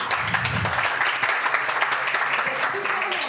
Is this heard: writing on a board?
no